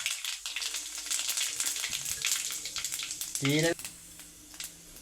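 Cumin seeds crackle and fry in hot coconut oil after mustard seeds have popped, a dense sizzle with a brief sharper burst of spatter midway, followed by a quieter tail.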